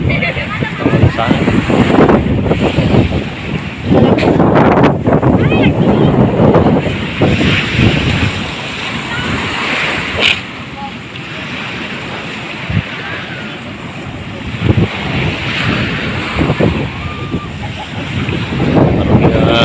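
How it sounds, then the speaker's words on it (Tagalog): Waves wash and roar continuously at Nangaramoan Beach in Cagayan Valley, under heavy wind buffeting the microphone, with surges rising and falling throughout. "Alon na dyan eh."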